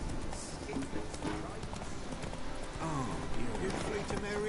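Rhythmic clip-clop of horse hooves at a steady trot in The Witcher 3: Wild Hunt, mixed with game music and ambient effects, continuous throughout.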